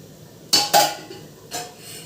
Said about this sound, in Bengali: হাঁড়িতে তো চাল দিয়ে দিলাম।